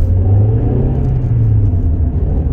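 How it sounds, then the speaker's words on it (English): A Rover 45 car with a 1.8 K-series engine running smoothly while driving, a loud steady low hum and rumble heard from inside the cabin with no talk over it. "Engine's nice and smooth, actually."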